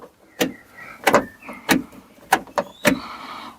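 The door central locking actuator on a VW T25 van, fitted with VW T4 actuators, makes a run of sharp mechanical clunks as the lock cycles, about six distinct hits spaced unevenly, each with a brief motor whir.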